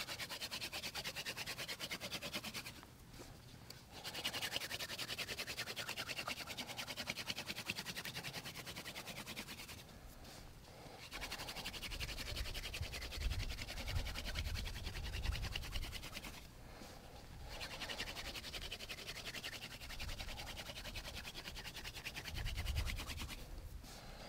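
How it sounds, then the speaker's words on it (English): Bow drill with a mule fat spindle burning into a California fan palm rib, a steady rasping friction scrape in long back-and-forth strokes with brief pauses, close and continuous. "I have my mule fat spindle, my California fan palm rib, and I just want to burn this in."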